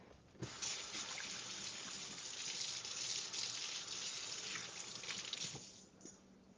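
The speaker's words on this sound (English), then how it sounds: "I'm going to wash my hands real quick" A kitchen tap runs steadily for several seconds while someone washes their hands partway through baking a lemon crème brûlée, the gushing water fairly close and continuous before cutting off near the end.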